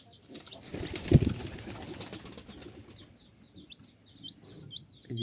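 Wings flap in a brief loud burst, followed by soft, scattered clucking from a nesting hen with a chick and eggs nearby in a quiet setting.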